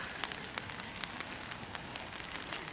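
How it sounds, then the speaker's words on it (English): Rain falling in Japan, a faint, steady patter with scattered light drops ticking on a surface. "since it is raining today"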